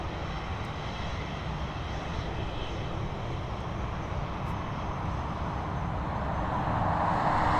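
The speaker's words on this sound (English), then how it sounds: "next up, we've got a Boeing 737 heading over to Stansted" A Boeing 737 airliner with winglets at Dublin Airport, bound for Stansted, roars as a broad, steady jet rumble heard from some distance, swelling slightly louder toward the end, with no voices.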